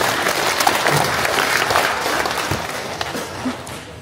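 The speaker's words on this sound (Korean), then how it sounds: "이럴 때 박수 한번 쳐도 괜찮겠죠" Residents at a county policy talk event on Gogeumdo island break into sustained applause, a steady roomful of clapping with a few sharper individual claps standing out.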